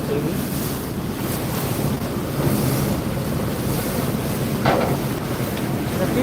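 A passenger launch carrying picnickers passes on a river in the morning: a steady, wide wash of water and wind with a low engine rumble underneath, and no voices.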